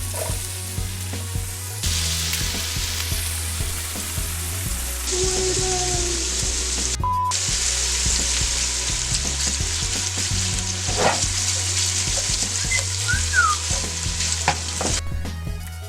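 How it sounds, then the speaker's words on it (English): Onion and celery fry in hot oil in a pot for New England clam chowder, a loud, steady sizzle with occasional stirring scrapes running throughout. "once it's up to temp, we're going to be throwing in our onion"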